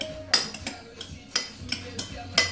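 Black beans, sweet corn and dip are stirred together in a bowl, the utensil giving several sharp clinks and scrapes against the dish at an uneven pace, close by with no talking.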